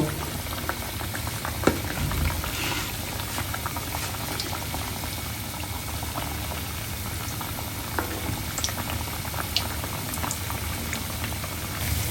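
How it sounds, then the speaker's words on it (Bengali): Milk puli pitha dumplings fry lightly in hot oil, giving a steady, continuous bubbling sizzle with small crackles and pops, close and even throughout. "বেশি ভাজবো না, আমি হালকা ভেজে নিব।"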